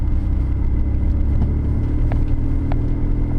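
A car accelerates gently through deep snow, its engine a steady low rumble close by with no wheelspin, the tone even and smooth throughout.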